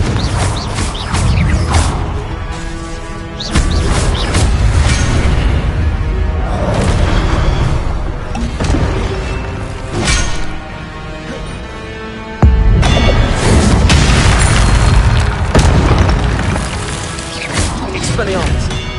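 Repeated loud booms and crashing impacts from Confringo fire spells in Hogwarts Legacy, bursting every second or two amid clanking game effects and spoken spell names.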